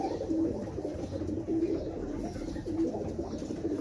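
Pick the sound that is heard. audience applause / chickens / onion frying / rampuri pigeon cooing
rampuri pigeon cooing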